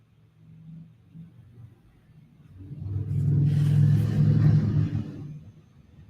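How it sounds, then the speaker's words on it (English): Motorcycle engines rev and roar past, rising from a faint rumble to a loud, close pass midway before fading off. "Motorcycles."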